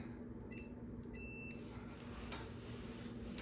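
A multimeter set to continuity gives one short, faint beep while testing the heating element of a Whirlpool dryer that has no heat, over a steady low hum.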